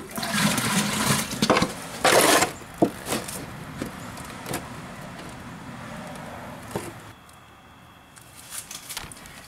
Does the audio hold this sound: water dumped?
yes